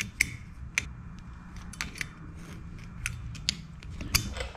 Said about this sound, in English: You're gonna wanna take that cotter pin out.